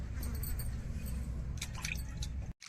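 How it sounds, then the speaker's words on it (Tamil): Cut dried fish is rinsed in water, with wet squishing and dripping sounds close up, ending with a brief silence. "இப்போ நம்ம வெட்டி வச்சிருக்கிற கருவாடை அலசி எடுத்துக்கிடுவோம்."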